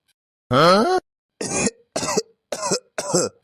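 A person coughs five times in quick succession from a cold, the first cough longest and loudest, the rest short and evenly spaced.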